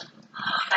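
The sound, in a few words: pet dog growling and whimpering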